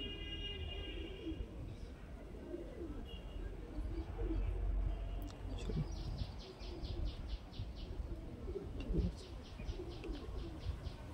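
Cooing of a male Madrasi pigeon, soft low repeated coos mixed with bird chirps at close range, with a faint rhythmic high ticking in the background.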